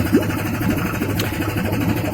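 A machine used in a cyanide leaching process runs steadily nearby, a loud continuous mechanical hum with a faint rhythmic knock and no pause.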